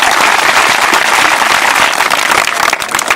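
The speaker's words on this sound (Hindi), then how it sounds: "जोरदार ताली बजा के स्वागत करब।" Dense, continuous applause from an outdoor crowd welcoming street-play performers, loud and steady throughout with no voices over it.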